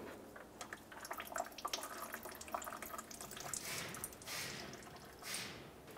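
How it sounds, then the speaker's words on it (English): Coolant drains from the bottom radiator drain of a Mercury Grand Marquis, a faint, irregular splashing and dripping trickle with short bursts of liquid noise, no talk. "Go ahead and start draining that coolant."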